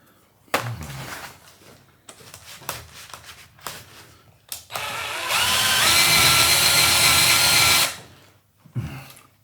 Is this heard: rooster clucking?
no